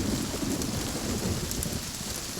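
Steady heavy rain pours down continuously with a low rumble of thunder beneath it, loud and enveloping, with no voices.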